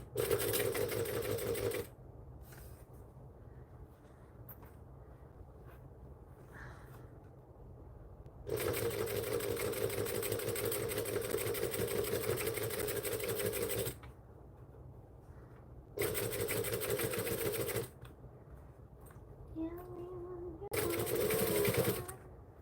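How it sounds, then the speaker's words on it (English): A sewing machine top-stitching a custom order, running in long, steady, loud bursts separated by quieter pauses, with faint background sounds in the gaps. "I'm going to top stitch this because I think it looks pretty."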